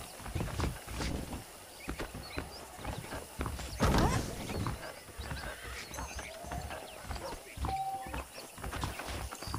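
In the video game Red Dead Redemption, horses' hooves clip-clop steadily while a horse whinnies loudly partway through, amid outdoor ambience with a brief ding.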